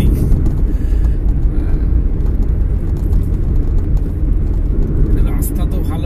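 Car driving at night on a highway between Kolkata and Puri, a steady low engine and road rumble filling the cabin, constant and close with no breaks.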